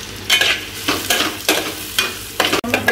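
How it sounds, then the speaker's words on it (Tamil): Onions sauté in a hot pan for a beef biryani, with bursts of scraping stirring over a soft steady sizzle, close and fairly loud, no talk. "வெங்காயம் ஆட் பண்ணி நல்லா மிக்ஸ் பண்ணி ஒரு ப்ரௌன் கலர் வர்றது வரைக்கும் நல்லா அதை வந்து சாட்டே பண்ணிடலாம்"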